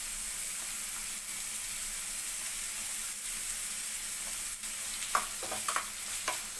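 Green chillies and curry leaves sizzle in hot oil alongside onions in a pan, a steady close frying hiss with a few sharper crackling pops near the end.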